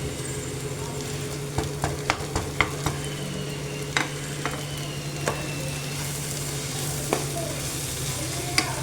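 A spoon stirs spiced chicken cutlet masala in a pan, giving a string of sharp scraping clicks over a soft, continuous frying sizzle, with no talk.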